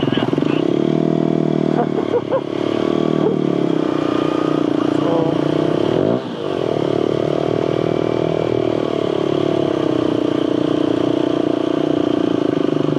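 A Honda CBR 125 motorcycle on a group ride, its engine droning steadily and loud throughout, with wind noise, a brief dip midway and talk over it.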